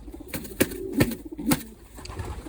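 A Romanian pigeon from 2017, a bird once torn at the neck by a hawk, coos in a few low throaty bursts close by, with sharp knocks and rustles around it in a loft.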